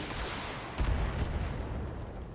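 Mech weapons firing in the BattleTech game, a dense, continuous roar of fire with a heavier low thump partway through, loud and steady, with no voices.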